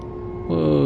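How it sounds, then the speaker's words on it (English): A loud, sustained train horn blares in Train Sim World 3 on the New York Harlem Line, with steady harmonic tones that swell louder halfway through over a low engine rumble. "Sound the horn when you see a W sign."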